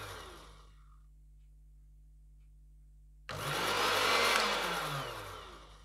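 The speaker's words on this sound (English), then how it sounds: "I'm going to dip this blender so that I can really blend everything" A quiet motor hum, then an immersion blender switches on loudly and whirs steadily, its pitch wavering as it churns through thick, pure aloe vera gel with no water added.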